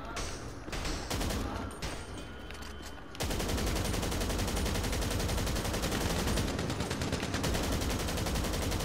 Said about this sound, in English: Gun him down.